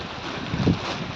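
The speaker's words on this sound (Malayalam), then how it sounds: "ഇങ്ങനെ കണ്ടില്ലേ, നല്ല കാറ്റും." Strong wind on the Kurishumala hilltop at Malayattoor on a rainy day roars across the microphone in a dense, close buffeting rush that swells briefly midway.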